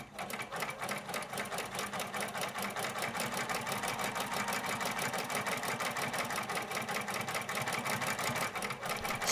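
A sewing machine stitches a buttonhole in jeans at a very short stitch length, its rapid, steady mechanical chatter running continuously and fairly loud for the whole stretch with no talking.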